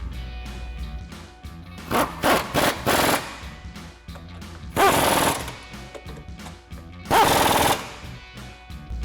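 An impact wrench tightens three 15mm nuts on top of a Mustang front strut during a lowering-spring install, firing in loud rattling bursts: a cluster of short hammering pulses, then two longer sustained bursts, close up.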